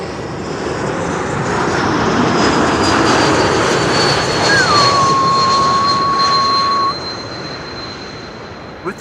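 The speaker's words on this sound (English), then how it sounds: "With the geared turbofan whistle that you also hear when an E2 Embraer is passing by." An Air France Bombardier C-Series 300 with geared turbofans lands on runway 06 at Amsterdam Schiphol, a loud, broad jet roar carrying a high, sustained whistle that drops away near the end.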